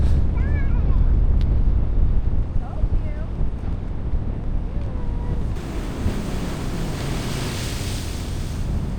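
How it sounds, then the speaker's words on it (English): Sea blowholes on the rocky shore of Grand Cayman rumble and gush amid heavy wind buffeting the microphone, the surging water roar steady and close, while a voice speaks briefly over it. "Now we're back at the blowholes and we want to see if they're blowing, and it looks like they're blowing real good."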